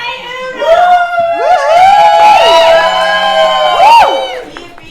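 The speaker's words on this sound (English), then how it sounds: "You gotta applaud them or they won't sit down." A small crowd of voices whoops and cheers loudly and continuously, with excited rising shouts overlapping close by.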